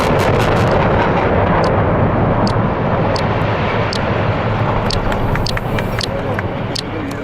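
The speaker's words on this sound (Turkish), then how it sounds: "Kontrolü patlatma başarıyla sonuçlanmıştır." Two heavily damaged apartment blocks come down in a controlled demolition, leaving a loud, sustained roaring rumble of collapse that fills the whole stretch with a dense wash of noise while voices are heard over it.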